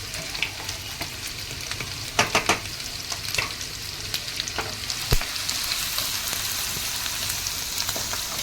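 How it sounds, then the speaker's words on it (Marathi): Green chilies, ginger and coriander stems sautéing in hot oil for Schezwan chutney, a close, steady sizzle broken by sharp spatters and stirring scrapes, no one talking. "सगळं व्यवस्थित आपण परतून घेऊया. कच्चा वास जाईपर्यंत आपल्याला परतायचं."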